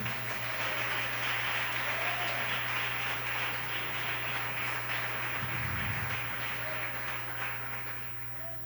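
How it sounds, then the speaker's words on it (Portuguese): A church congregation applauds during a sermon, a dense, sustained wash of clapping at moderate loudness that continues evenly throughout, with a low steady hum underneath. "Aplauda Jesus por isso."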